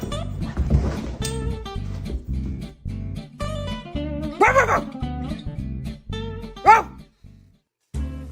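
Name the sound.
dog barking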